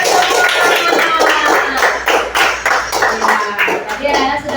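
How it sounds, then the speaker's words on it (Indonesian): Classroom audience of pupils clapping their hands together in a primary-school lesson, a steady stream of fairly loud claps with some voices mixed in, continuing throughout. "Tepuk tangan buat kita semua."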